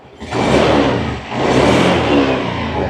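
A 2022 Honda Scoopy i Club12 scooter with its original stock exhaust revving as the throttle is twisted, two loud close rising bursts separated by a brief dip.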